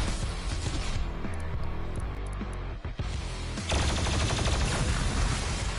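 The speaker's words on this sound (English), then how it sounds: "I hate this gun, it just sprays everywhere." Rapid spraying gunfire from a weapon in DOOM Eternal, a dense, loud continuous barrage of shots that briefly drops out near the middle before resuming even heavier, with no talking.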